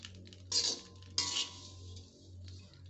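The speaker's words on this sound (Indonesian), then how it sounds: "membuat maggot BSF kering, yaitu bisa kita dengan sangrai seperti ini" BSF maggots stirred while dry-roasting in a pan, a utensil scraping and clinking against the metal in two sharp strokes, then a softer rustle under a low steady hum, fairly faint.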